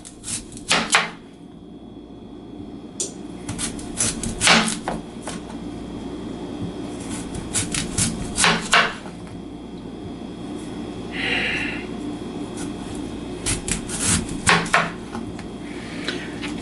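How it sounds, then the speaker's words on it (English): A knife cuts kajaka root into slices about a quarter inch thick, giving intermittent sharp clicks and knocks in short bursts over a steady low background hum. "As these are getting cut up, I'm going to go ahead and start lining them on the parchment"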